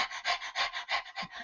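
A person imitating a dog panting: quick, even, breathy huffs in a steady rhythm, about eight close, clear pants with no other sound.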